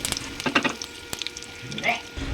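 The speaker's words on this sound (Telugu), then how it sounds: "ఆయిల్ హీట్ అయ్యాక జీలకర్ర వేసుకున్నాక ఇందులోని కరివేపాకు కూడా వేసుకోండి" Cumin seeds and curry leaves sizzle and crackle in hot oil in a kadai, with a short burst of spitting and a faint voice in the background.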